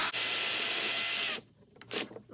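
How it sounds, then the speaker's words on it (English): A power drill with a 2.5 mm bit bores a shallow pilot hole for a Blum Tandem undermount drawer slide, a loud steady whir for over a second, then a stop and a brief second burst. "I'm just drilling a little bit a pilot hole"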